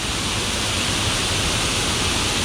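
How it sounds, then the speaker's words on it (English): From beside the rock face, Hogs Falls in Beaver Valley on the Bruce Trail rushes quickly past in a constant, close, dense hiss and roar of water, even and uninterrupted, with no talking. "here's your side view of Hogs Falls"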